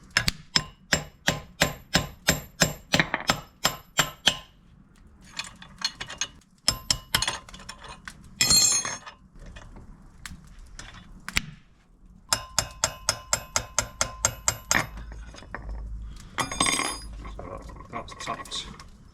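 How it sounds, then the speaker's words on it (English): A hammer taps hot, freshly cast lead out of a mould in a DIY casting setup. Quick runs of sharp metallic clinks come in bursts with pauses between them, and faint voices are heard at times. "I'm just going to give this a tap at hammer now"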